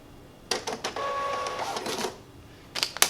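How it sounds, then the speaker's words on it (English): A Star USB receipt printer prints a test receipt, giving a series of quick mechanical buzzing bursts, a brief steady whirring tone in the middle, and a final burst of clicks. "it prints out a little test receipt"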